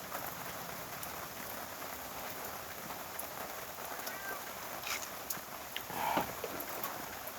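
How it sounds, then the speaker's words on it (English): Steady rain patters on a surface, a soft continuous hiss with scattered drips, fairly quiet and heard on its own. "As you probably hear, it's raining."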